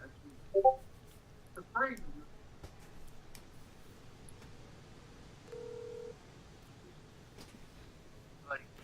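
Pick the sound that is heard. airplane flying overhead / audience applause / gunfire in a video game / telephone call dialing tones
telephone call dialing tones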